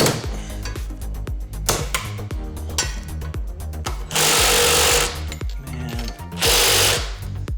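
An impact wrench works on a Tesla rear drive unit while the ring gear is moved to a new differential, giving rapid hammering rattles in short bursts and two longer loud sustained runs, close and alone without talk.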